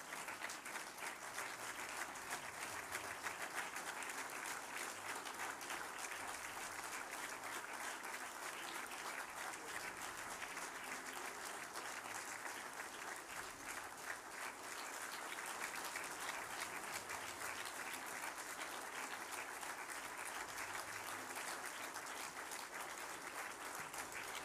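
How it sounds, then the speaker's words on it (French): A large standing audience at a political rally applauds Evelyne Reber, steady dense clapping that holds at an even level for over twenty seconds, heard from a distance. "je vous demande de tous vous lever pour applaudir Evelyne Reber"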